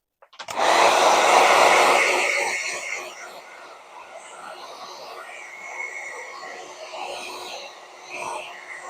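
A heat tool blasts air over nearly dry craft paint, starting with a sudden loud rushing whoosh that eases into a steadier, quieter blowing hum, close by.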